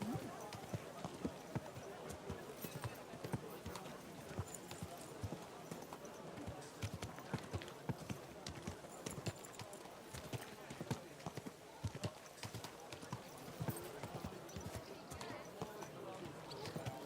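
Horse hooves clip-clop at a steady quick gait in the game Kingdom Come Deliverance II, a continuous close rhythmic clatter that runs the whole way through, with a voice speaking over it.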